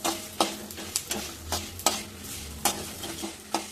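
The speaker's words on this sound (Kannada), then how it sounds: "ಒಂದು ಸ್ವಲ್ಪ ಎಣ್ಣೆ ಹಾಕ್ತಾಯಿದ್ದೀನಿ. ನೋಡಿ, ಈ ಥರ ಸ್ವಲ್ಪ ಸಣ್ಣ ಉರಿಯಲ್ಲೇ ಈ ಥರ ಫ್ರೈ ಮಾಡ್ಕೊಳ್ಳಿ." Byadgi chillies, cinnamon, cloves and cardamom fry in a little oil over low heat, a soft sizzle punctuated by sharp, rhythmic scrapes and taps of a spatula stirring the spices, no one talking.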